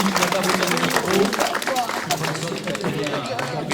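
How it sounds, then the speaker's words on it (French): A crowd at a rustic village festival in Monieux applauds the local lord: dense, steady clapping mixed with crowd chatter, close and sustained for the whole stretch. "Merci et applaudissez-le."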